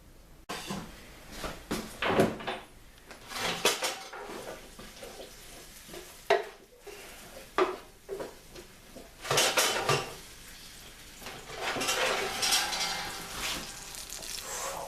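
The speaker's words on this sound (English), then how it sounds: "Hopefully you could hear that sizzling away." Food sizzles in a pan as utensils clatter and scrape against cookware in irregular bursts, with a steady frying hiss underneath.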